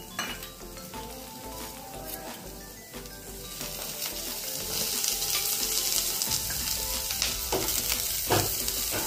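Sliced onion roasting in a spoonful of oil in a pan for a mutton sukkha masala, a steady close sizzle and frying hiss with occasional stirring scrapes that grows louder and denser toward the end, no talking.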